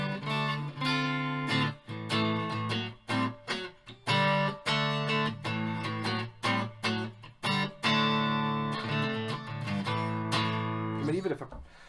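A cheap electric guitar plays through distortion, loud, buzzy, sustained chords struck in choppy bursts with short gaps between them.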